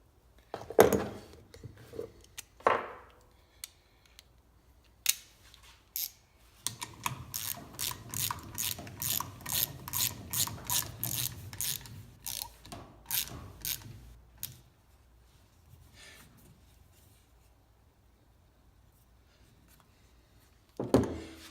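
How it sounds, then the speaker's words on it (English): A ratchet wrench tightening a half-inch nut on a Minn Kota Tranxxis 40 trolling motor, a rapid run of sharp clicking strokes in bursts, close and clear, with a few handling knocks before and after and no talking. "we put the washer back on, followed by the 1/2-inch nut. Tighten that back up."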